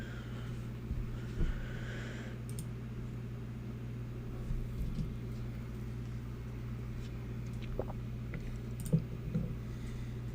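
Typing on a computer keyboard comes through as faint, sparse clicks and taps over a steady low room hum, with no talking.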